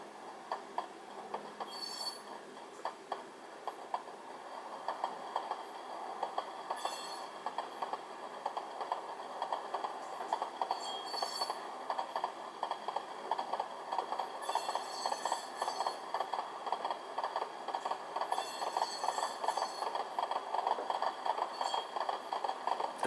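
A model train caboose with a DCC sound decoder plays a soft, steady rail rumble with a rhythmic clickety-clack of wheel clicks repeating throughout, faint and unaccompanied by voices.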